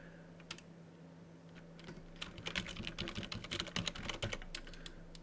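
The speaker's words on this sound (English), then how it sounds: "Here I'll type in my root username and password." Keys clatter on a computer keyboard as a root username and password are entered, with soft scattered taps building into a quick burst of clicks, close and fairly quiet.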